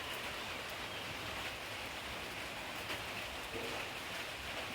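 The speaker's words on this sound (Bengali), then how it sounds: "সেই দেখো গাছপালার প্রকৃতির বৃষ্টিতে সব ভিজছে।" Steady rain falls on trees and plants outdoors, a continuous soft hiss of drops with no talk, holding an even level throughout.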